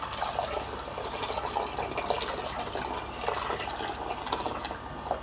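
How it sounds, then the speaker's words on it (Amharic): Boiling water poured steadily into a cooking pot over roasted ingredients while making a barley coffee drink, a continuous close gushing and splashing stream lasting throughout with no talk. "ከዛ ወደ ድስታችሁ ተጨምሩና የፈላ ውሃ ትጨምራላችሁ"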